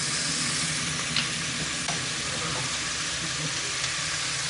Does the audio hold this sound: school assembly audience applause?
no